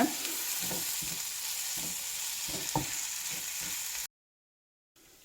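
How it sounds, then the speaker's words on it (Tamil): Ivy gourd sautéing with masala in a pan over medium heat makes a steady close sizzle with rhythmic stirring scrapes, then cuts briefly to silence before the frying noise resumes quietly. "கொஞ்சம் மீடியம்லேயே வச்சு நல்லா வதக்கிக்கங்க"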